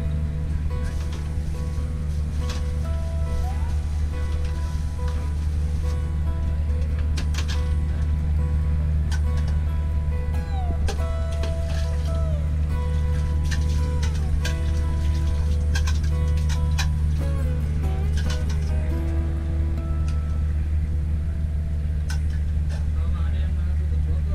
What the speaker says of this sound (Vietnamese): Động cơ 6 LE 1000 mã lực chạy quá đẹp